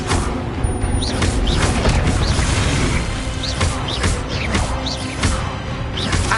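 A fiery Incendio spell blast in Hogwarts Legacy, loud booming whooshes and crackling bursts repeating through a dense battle din, with no voices.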